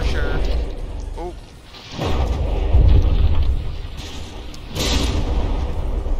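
Heavy gunfire shots strike a battleship in a From the Depths tournament battle, producing booming thuds and crackling impacts, while someone talks over the rumbling action.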